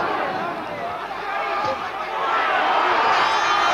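A boxing crowd roars during the Villasana vs Hodkinson fight, a dense, steady wall of cheering and babble that swells louder in the final seconds.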